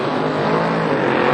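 A Hadman chassis drag race car at an NHRA drag strip, a loud continuous roar sustained throughout, dense and close, with no voices.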